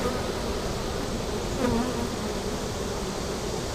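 Honeybees in an open, brood-heavy hive hum in a dense, steady buzz that fills the whole stretch, close and even, with a brief louder swell of wingbeats midway.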